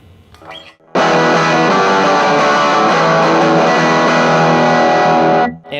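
An electric guitar chord rings out through a JHS Sweet Tea overdrive pedal with its drive set very low. It is loud and sustained for about five seconds, then cut off, after a short quiet pick noise at the start.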